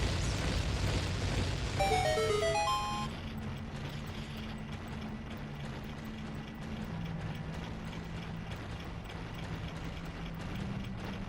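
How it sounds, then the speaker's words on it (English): A dense, continuous rumble of a chain of bomb explosions and pops in The Legend of Zelda: Ocarina of Time, with game-like tones over it, rolling on steadily without pause. "With all this line of bombs, it could be like a domino effect, right?"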